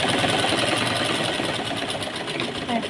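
A sewing machine stitching a sleeve cuff runs continuously close by, a loud rapid mechanical whirr with a fast even stitching rhythm throughout.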